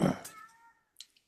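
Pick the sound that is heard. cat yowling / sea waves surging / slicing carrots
cat yowling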